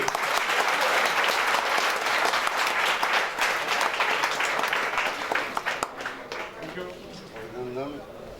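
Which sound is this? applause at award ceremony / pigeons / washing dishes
applause at award ceremony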